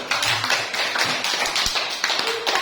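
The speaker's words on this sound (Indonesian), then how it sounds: "tepuk tangan dulu untuk kelompok 1" An audience in a classroom claps in a short, uneven burst, the hand claps close and crisp with a few voices mixed in.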